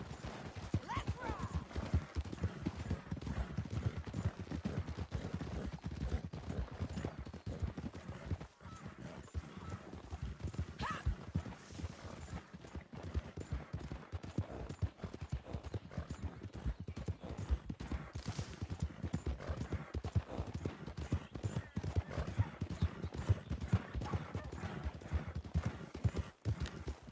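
Galloping horse in Red Dead Redemption 2, a continuous fast clip-clop of hooves on a dirt trail at steady rhythm throughout, mid-level and close, with faint game ambience beneath.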